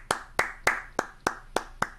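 Seven sharp hand claps right beside the microphone, evenly spaced about a third of a second apart, loud and close with no talking.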